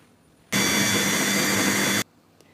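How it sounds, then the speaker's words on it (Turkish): A loud, steady mechanical whirring from a food processor chopping peppers starts abruptly, runs for about a second and a half, then cuts off, with no talk. "Şimdi bunları robotta küçük küçük doğrayacağım."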